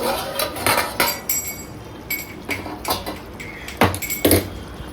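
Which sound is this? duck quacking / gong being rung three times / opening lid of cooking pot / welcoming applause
opening lid of cooking pot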